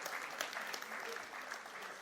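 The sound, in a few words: audience applause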